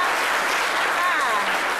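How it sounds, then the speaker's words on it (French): A studio audience applauds mothers on a French midday TV show, steady dense clapping filling the whole stretch at an even level, with a voice faintly present underneath. "on peut applaudir les mamans quand même"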